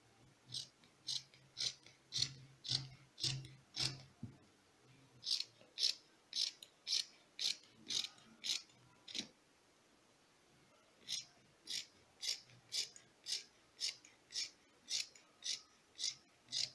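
Scissors snipping through fabric for a school uniform, a steady run of crisp, close cuts in two bursts separated by a short pause, with no talk over them.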